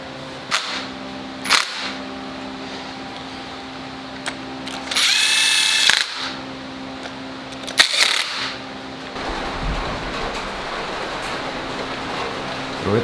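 Bursts from a power tool, likely an impact gun, sound up close while Miata engine parts are bolted together during an engine install. Short sharp rattling hits alternate with a longer whirring run, and workshop noise fills the background.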